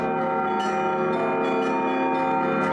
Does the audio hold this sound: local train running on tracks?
no